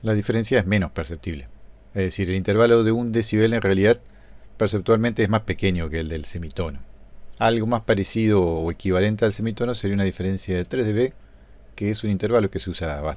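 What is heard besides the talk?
No everyday noises stand out.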